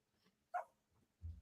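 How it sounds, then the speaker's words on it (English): A pet dog barks once, close and fairly loud, a short sharp yelp followed by a low thump and faint room noise. "I just got back in from walking the dog for a while, and you can hear him barking now."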